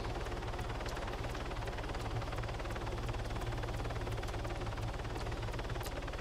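A helicopter in a combat flight video game gives off a continuous, even rotor and engine drone with a steady low chop, heard alone at moderate level without any talk.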